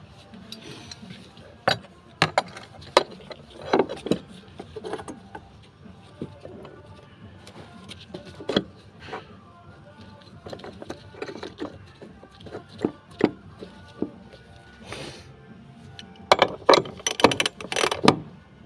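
Fuel pump retaining ring being tightened on a Hyundai Santa Fe, heard as irregular metallic knocks, scrapes and clicks close by, with busier clusters of taps toward the end.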